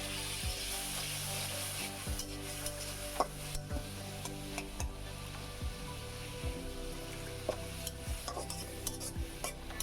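A spice paste of turmeric, chilli and coriander powders fries with prawns in a pan, a steady close sizzle broken by repeated scraping and knocking of a spatula against the pan.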